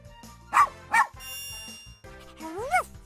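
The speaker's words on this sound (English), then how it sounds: "Woof, woof." Cartoon dog barks in a Super Why children's game, two sharp woofs followed by a rising, whiny yip, loud and close, with a soft background music bed and no talking.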